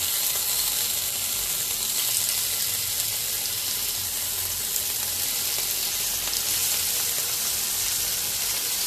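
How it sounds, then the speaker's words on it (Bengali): Raw tomatoes dusted with turmeric fry in a pan for a spicy potato chaat, giving an even, continuous hiss of sizzling oil at close range with no speech. "টমেটোগুলো এপিট ওপিট করে একটু ভেজে নেব।"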